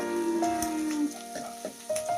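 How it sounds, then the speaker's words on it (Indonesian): Shallots and garlic sautéing in a pan for sambal goreng meatballs give a steady, close sizzle, with a tonal melody running over it. "Kemudian kita tumis."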